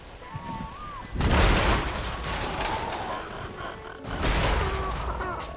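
Two loud, close booms of C4 explosive detonating during a video game raid, each a broad blast with rumbling decay, the first near the start and the second about three seconds later, with game sounds around them.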